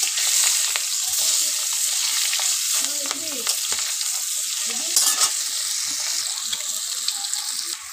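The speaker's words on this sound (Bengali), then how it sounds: "তো দেখুন মাছগুলো ভাজা হয়ে গেছে," Fish, heads still on, sizzle steadily in hot oil in a pan while being stirred, with scraping and a few clinks of the utensil over the continuous frying hiss; no one speaks.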